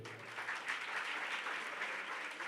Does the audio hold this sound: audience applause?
yes